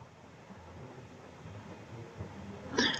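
Ballast water discharging through the sea chest of a tanker ship during de-ballasting, a low continuous rushing roar with a rumbling wash, steady and moderately loud, rising slightly near the end.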